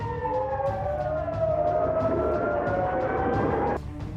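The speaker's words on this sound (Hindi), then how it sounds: "हमले से कई इजरायली बस्तियों में सायरन बजने लगे" Warning sirens wail across Israeli settlements during a Hezbollah attack, a loud, continuous rising and falling tone that carries from start to finish before dropping off sharply near the end, with no voices.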